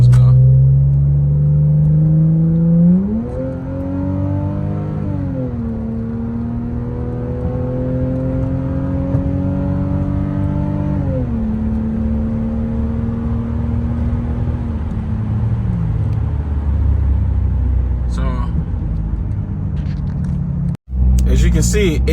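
A Lexus GS300 with a 2JZ engine and cold air intake revs up and holds in drive, its engine note rising and falling in long smooth steps, loud and close, with a brief click near the end.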